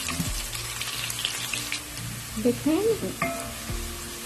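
Onions frying golden in a pan for chana dal with brinjal, a steady soft sizzle with occasional stirring scrapes, close-up and moderate in volume, with a woman's brief spoken word.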